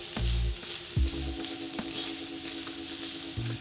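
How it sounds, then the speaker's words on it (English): Chicken sizzles steadily in a hot pan, a constant bright hiss broken by a few low knocks of the pan or utensil near the start and end. "Pan fry the chicken until it's golden and beautifully caramelized"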